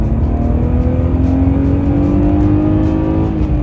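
A 1990s BMW 325i E36 coupé with a six-cylinder engine accelerating, a loud, steady engine note climbing smoothly in pitch as it pulls, heard from close by.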